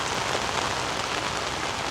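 Steady, dense rain falls on a rooftop setting, a continuous close hiss of drops hitting surfaces with no breaks and no voices.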